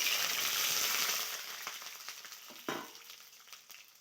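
Cut eggplant pieces dropped into hot oil in a pan, giving a soft steady sizzling hiss that is strongest at first, then fades into quieter scattered crackles and pops.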